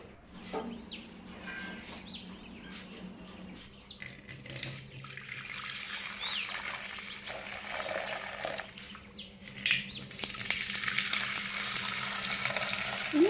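Freshly made masala tea strained through a strainer, a running, trickling pour of liquid with soft clinks, close and fairly even, growing louder toward the end.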